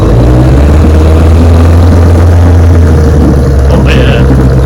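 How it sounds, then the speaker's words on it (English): A 1966 Bill Lake 9.5 HP outboard boat motor runs with a loud, steady, close-up drone. The rough mechanical rumble holds throughout, with a brief higher whine near the end. "Let's give her a quick start and take her for a run."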